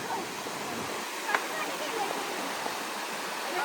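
A waterfall seen from a quiet viewpoint on a mountain trek, heard as a soft, steady rushing wash of water in the distance, with a brief small knock partway through.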